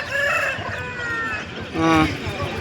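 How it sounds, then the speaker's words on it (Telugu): A parrot-beak hen with her four month-old chicks clucks at a busy Sunday poultry market, short clucks and a brief crowing-like call rising over crowd chatter and nearby voices. "ఈ ప్యారెట్ బీక్ వచ్చేసి పెట్ట పెట్టకోడి మళ్ళీ దానికి నాలుగు పిల్లలు పెట్టుకోండి"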